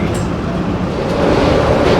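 Airport terminal train at Hartsfield-Jackson Atlanta pulling away: a low, steady rail rumble and hum inside the car that swells slightly as it departs, with no voices.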